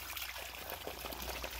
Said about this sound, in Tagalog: yung patulo kung tawagin sa amin sa Bulacan, na nagmumula po sa bundok